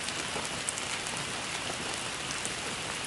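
Rain falling on a surface in a dense, even patter, a continuous steady wash of droplets with no pauses or other sounds.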